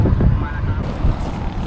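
Strong wind gusts at a bridge over the Bang Pakong River in Thailand, where cast-net fishing is under way, buffet the microphone with a continuous low rumbling roar that swells and eases throughout.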